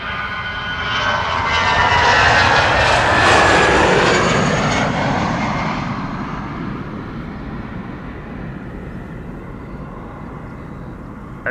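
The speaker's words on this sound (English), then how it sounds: "the first A350 of the show has arrived on the scene" An Airbus A350 arriving at Amsterdam Schiphol, its loud jet roar swelling as it passes close by, then fading into a steady distant engine rumble, with no voices.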